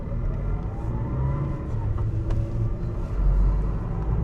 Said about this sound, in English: You probably hear me shifting gears, and you probably hear some tire movement.